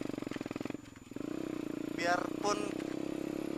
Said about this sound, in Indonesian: Jadi aslinya itu kan Jupiter MX 135 ya, ini di upgrade jadi 150.